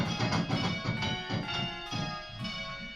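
Church bells on a bell-ringing simulator ring in a steady, rhythmic sequence of loud, resonant strikes, each tone overlapping the decay of the last.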